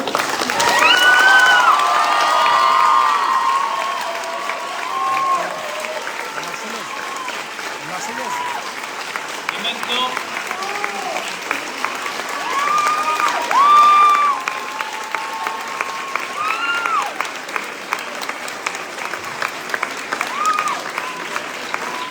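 A crowd at a hometown reception in Rillieux-la-Pape applauds and cheers Olympic gold-medal fencer Manon Apithy-Brunet, loud sustained clapping with scattered shouts and voices running through it, easing and rising again over about twenty seconds.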